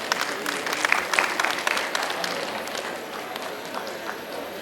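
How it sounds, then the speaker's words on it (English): A crowd at a farewell party applauds to welcome a speaker, brisk clapping strongest at first and then thinning into a softer patter. "Let's welcome him with a huge round of applause."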